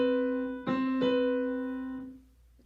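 Two clear sustained tones, struck one after the other like a fire-truck siren interval, ringing out and slowly fading over about two seconds with no talk.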